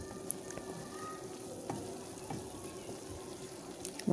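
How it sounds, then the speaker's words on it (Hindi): Masala for an egg and potato curry fries in oil in a pan with a soft, continuous sizzle and occasional light stirring scrapes, quiet and close. "और इसको हम भूनते रहेंगे।"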